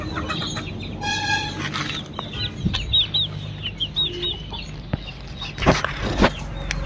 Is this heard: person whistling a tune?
no